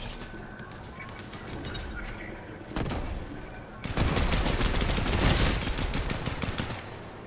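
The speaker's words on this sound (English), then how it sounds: "Oh, somebody's already shooting at you, Trelly." Rapid bursts of gunfire in a battle-royale video game, dense overlapping shots that swell louder midway and keep rattling steadily, with game background noise throughout.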